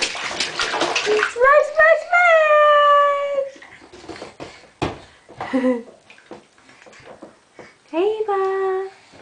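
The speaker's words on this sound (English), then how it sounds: "Show how you splash!" A child splashes water in a bathtub, with bursts of splashing mixed among high, sing-song voices and squeals from the child and an adult speaking nearby.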